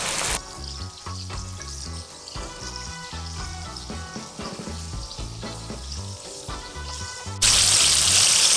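Chicken fries in a pan outdoors with a busy crackling sizzle under music, then a sudden louder hiss of spitting oil near the end, close and continuous.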